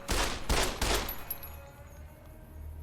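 Three quick loud gunshots ring out in the Fallout: New Vegas video game played in VR, followed by a fading reverberant tail and low ambient rumble.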